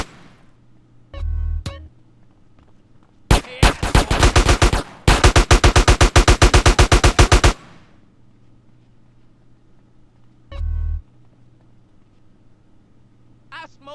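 Gunfire in GTA San Andreas: loud, rapid automatic bursts rattle in two long volleys, set among a few short engine-like blasts and quieter stretches.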